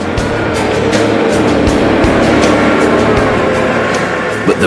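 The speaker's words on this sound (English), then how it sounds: "Both drivers maintain the same engine speed." Heavy truck engines drone steadily and loudly on a Michelin tire test track, with intermittent tire scraping and skidding noises as trucks slide, continuous throughout with no pauses.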